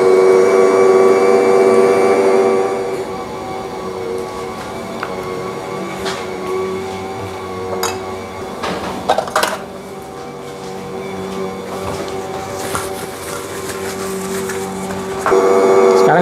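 An electric mixer kneads bun dough after butter is added, giving a steady loud motor whine with tonal hum and occasional knocks and clatters from the bowl, louder at the start and end.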